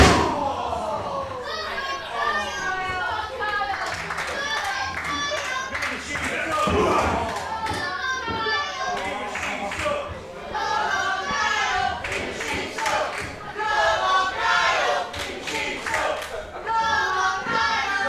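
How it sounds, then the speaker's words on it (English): Crowd at a live independent wrestling show cheering and clapping, with loud sustained noise, scattered claps and thuds from the ring, and voices of commentators over the top. "Crowd here really getting behind Kingsley and showing Mark Sanders that they are not fans."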